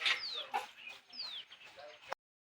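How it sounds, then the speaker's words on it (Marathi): Domestic backyard chickens let out in the early morning clucking and squawking close by, several short rising calls in quick succession for about two seconds before cutting off. "आणि कोंबडी बघा, सकाळ सकाळ उघडलेली आहेत कोंबडी"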